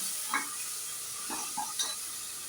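Ground tomato paste frying with chicken in a pot for biryani, a soft steady sizzle broken by a few quiet stirring scrapes, close and fairly faint.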